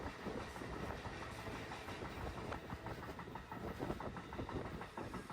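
Passenger carriage on the Panama Railway rolling along the rails, a steady loud rumble with a rhythmic clickety-clack of wheels over rail joints running throughout, no voices.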